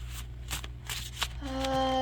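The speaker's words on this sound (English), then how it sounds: "And they shuffle really nice." Thick cardstock tarot cards are shuffled by hand in a few quick, close papery bursts, followed by a faint tonal hum near the end.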